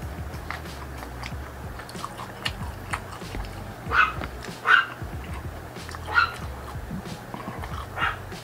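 Several dogs bark nearby in short separate bursts, four sharp yaps standing out over a steady background hum, with no talking.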